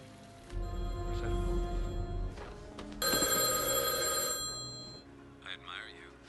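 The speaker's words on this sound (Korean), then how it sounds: "어디선가 울리는 전화벨 소리를 듣습니다" A telephone bell rings in two bursts, bright and metallic, with a short pause between them, followed by faint rustling.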